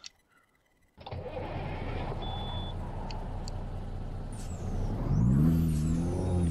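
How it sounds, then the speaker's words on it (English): A truck engine in Euro Truck Simulator 2, driven around Iceland, starts abruptly after a quiet moment and settles into a steady rumble. Near the end a rising, high turbo whine climbs over the engine noise. "So you got a nice turbo whine."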